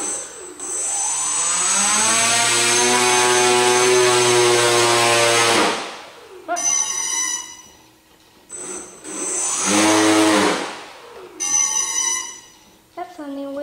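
A VTOL model aircraft's electric motor and propeller spin up into a loud whine with rising and falling pitch, cut out, then run again in a second shorter burst, with brief gaps and small clicks between runs.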